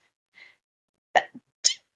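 A single sharp sneeze, close and fairly loud, preceded by a faint short breath and followed by a brief small after-sound.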